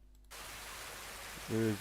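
A rainfall sound effect in a music production starts abruptly after a brief quiet moment as a steady, hissing wash of rain, with a short burst of a voice near the end.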